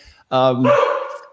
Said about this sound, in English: that's my dog saying hello to everybody